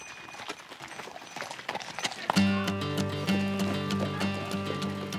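A South German cold-blooded draft horse walking, hooves clopping in an uneven rhythm nearby, joined midway by a steady droning background tone.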